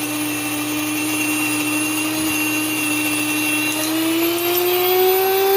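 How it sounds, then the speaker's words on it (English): A Wonder Mill electric grain mill grinding flour runs as a loud, steady high-pitched motor whine that rises slightly in pitch near the end, with no talk. "I'm milling the flour here. The Wonder Mill has been a wonder."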